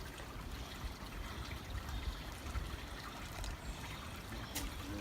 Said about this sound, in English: It's so peaceful, and that water running.